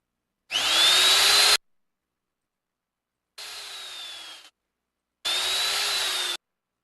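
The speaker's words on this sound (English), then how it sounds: "Sander." An electric sander in a 9-to-5 job simulator game runs in three separate bursts of about a second each, a steady whirring drone with a slight rising and falling pitch, loud and close, with silence between bursts.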